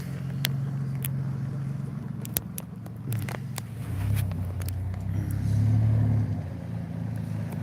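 A truck arrives and pulls up close, its low engine rumble swelling as it approaches and idles, with a few sharp clicks and knocks on top and no talk.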